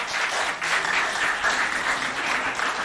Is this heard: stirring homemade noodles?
no